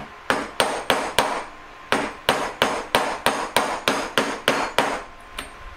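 A hammer taps a ring shank on a mandrel, shaping it to a tapered point for an emerald-cut and pear-shape three-stone ring: about sixteen sharp, evenly spaced metallic taps, close and clear, with no talk.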